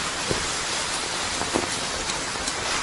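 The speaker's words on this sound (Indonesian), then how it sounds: "Hujan besar, tunggu sebentar lagi." Heavy rain falls in a dense, steady hiss, with scattered louder drops striking nearby surfaces, loud and close with no voices.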